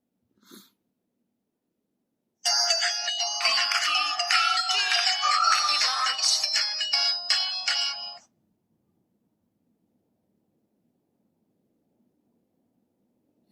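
A short electronic jingle of bright chiming tones from children's smartwatches powering on plays for about six seconds, close and clear, framed by near silence.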